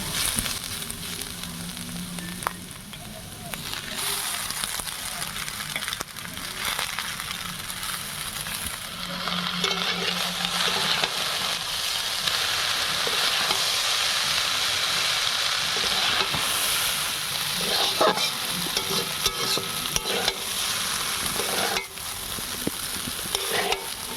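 Chowmein noodles fry with vegetables in a hot pan for egg chowmein, a steady close sizzle and hiss with occasional stirring scrapes, no voices over it.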